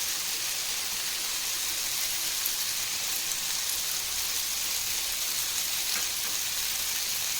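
Paneer tikka pieces roast in oil in a pan, giving a steady, even hiss and sizzle that runs unbroken throughout at a moderate level, with no talking.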